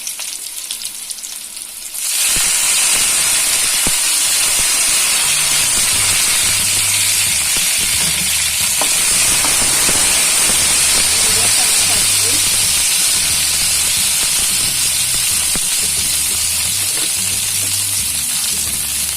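Curry leaves and coriander dropped into hot oil for Telugu mamidikaya pappu, a loud sudden sizzle erupting after a quiet start and then hissing steadily and intensely for the rest of the clip.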